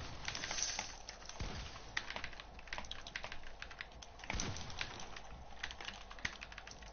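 Computer keyboard typing during a Fortnite gaming session: dense, continuous clatter of key presses at steady close range, with no voices.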